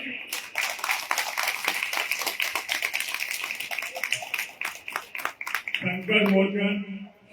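Applause from a temple congregation after a bhajan at a Hanuman charcha in a Balaji mandir: sustained dense clapping for about six seconds, then a voice speaking over the tail end.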